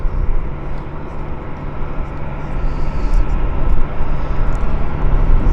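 A military aircraft, a C-130 Hercules type, backtracking on the runway at an air force base media day: a loud, steady engine roar with a low droning hum, rising slightly toward the end, heard near and alone.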